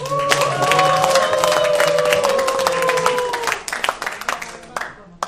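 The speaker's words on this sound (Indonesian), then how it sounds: "Kita berikan tepuk tangan yang" Audience at a corporate convention performance contest applauds and cheers with dense clapping and sustained tonal voices, loud and close, thinning into scattered claps toward the end.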